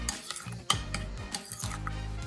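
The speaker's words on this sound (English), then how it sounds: "Just going to give that a good stir." A spoon stirring cacik, a yogurt dip, in a bowl: quick scraping and clinking strokes close by, with a couple of sharper taps against the bowl's side and no speech.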